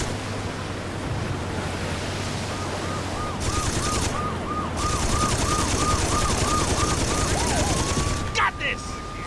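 A mounted gun fires in Saints Row 2 in a long, dense roar of rapid shots under loud wind and engine noise, with a repeating electronic warble laid over it.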